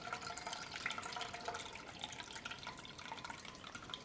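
Lentils are rinsed by hand in a pot of water for a traditional Rajasthani recipe, a steady close swishing and sloshing with small splashes and no pauses.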